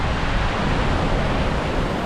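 Water from Fourteen Falls in Kenya splashes and roars close by, a steady broadband rush filling the whole moment without pause.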